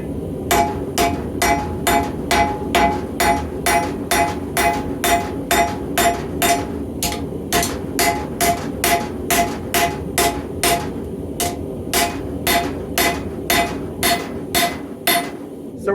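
A hammer strikes a mower blade over and over while the blade is forged into a knife tang. The steady, evenly spaced ringing blows run for the whole stretch, loud and close, with no talk over them.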